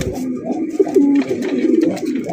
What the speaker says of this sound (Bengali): সাদা বোম্বাই কবুতর আপনারা দেখতে পাচ্ছেন, এটা কিন্তু ইন্ডিয়ান বোম্বাই